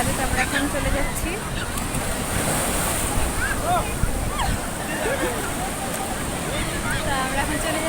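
Sea waves roll onto a crowded beach in a steady, loud wash of surf. Wind buffets the microphone, and people's voices blend into the noise.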